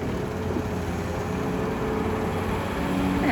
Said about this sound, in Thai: เสียงเครื่องคันนี้ของเขานิ่มมากครับ